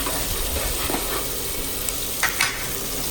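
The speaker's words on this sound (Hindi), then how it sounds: "तो मेरी लहसुन प्याज मिर्ची पक रही हैं धीरे धीरे।" Onions, garlic and green chillies sauté in a pan, giving a steady close sizzle and hiss with a few soft stirring scrapes and no talk.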